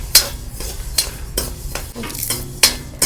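Mustard seeds roast in a hot pan for homemade bele sambar powder, popping and spluttering in sharp irregular bursts over a low sizzle, with occasional scrapes of stirring.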